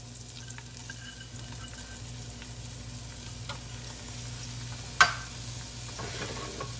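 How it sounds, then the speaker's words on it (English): Onions sizzle quietly in butter and olive oil in a pot, a faint, steady hiss broken by one sharp clink of a utensil near the end. "as you can see, the onion is sizzling now"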